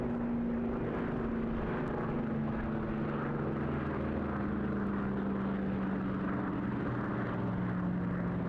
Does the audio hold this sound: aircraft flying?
yes